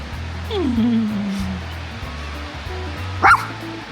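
A puppy barks and whimpers close by, with a rising yelp early on and a sharp bark near the end, against a low steady background hum.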